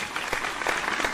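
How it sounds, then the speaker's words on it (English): A studio audience at a televised singing competition semi-final applauds steadily for a departing contestant, a brief dense burst of clapping. "round of applause for Chanel Fergie as she exits the stage"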